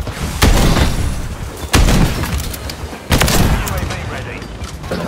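Gunfire in Call of Duty: Modern Warfare 3 during a Search and Destroy match: three loud, sharp bursts of shots with booming tails, spaced about every one and a half seconds, with continuous game noise between them.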